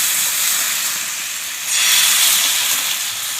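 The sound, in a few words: patisapta batter poured into hot pan, sizzling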